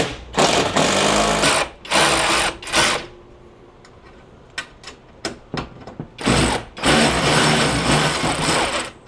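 A power tool drives large washer-head lag screws into heavy mounting brackets for a Tosot 36K multi-zone ductless mini-split, running in loud, close bursts of a few seconds each, with quieter clicks and brief pauses between the runs.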